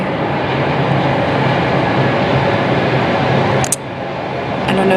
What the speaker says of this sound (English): I'm outside right now and there's a train going by.